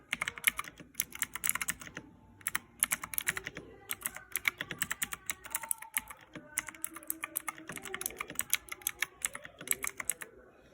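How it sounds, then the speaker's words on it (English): Rapid bursts of clicky keystrokes on a mechanical keyboard with Cherry MX Blue switches, typed fast without bottoming out, close and crisp, with brief pauses between flurries. "Now look, slower, not bottoming out, but still fast typing."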